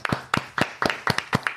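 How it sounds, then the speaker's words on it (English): A person claps out a short series of sharp hand claps, about seven of them in quick pairs at a loose, uneven rhythm, close and dry with no talking. "I initiated that clap."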